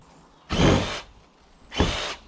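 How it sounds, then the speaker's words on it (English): A new Ryobi power saw cutting a tree and ivy out of an outbuilding roof, two loud bursts of about half a second each, separated by a short pause. "got himself a new Ryobi saw to do this"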